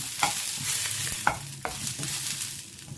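Red chillies fry in hot oil for egg paddu, a quiet steady sizzle up close punctuated by three or four crisp clinks of a spatula stirring the pan.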